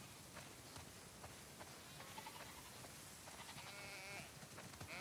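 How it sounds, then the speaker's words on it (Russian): Flock of sheep bleating in a farm setting in The Last of Us Part II, several overlapping bleats near and far over a soft ambient bed, with no talk. "Ого, сколько овец."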